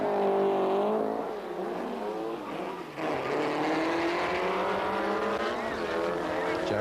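Two modified cars, driven by James Calvert and Mark Osborne, launch side by side in a drag race final at Bug Jam, engines roaring loudly and steadily with rising revs and a brief dip mid-run.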